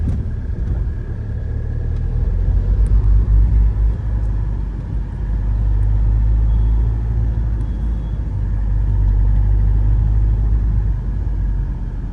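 Inside a moving car on a town road, a steady low engine and road rumble swells and eases as it drives along, continuous and close, with no one talking.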